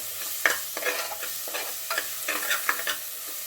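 Masala for chicken biryani fries in oil while a spoon stirs it in short, repeated scraping strokes, the close sizzle rising and falling with each stir.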